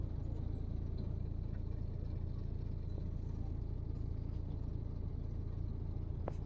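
Vehicles idle and rumble at a toll plaza on the road to Tirupati, a steady low engine drone that holds evenly throughout with no distinct passes, fairly faint and without talk.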